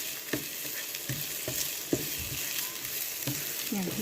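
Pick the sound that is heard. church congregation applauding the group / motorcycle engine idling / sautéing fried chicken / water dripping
sautéing fried chicken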